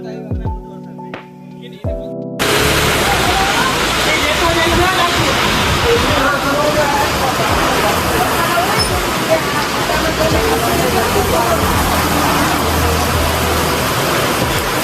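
Heavy rain pours down during a casual cricket game, starting abruptly after a quiet moment and holding as a dense, loud, continuous wash, with faint voices mixed in.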